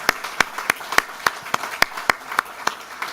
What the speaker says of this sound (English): Let's give him a big round of applause to welcome him formally.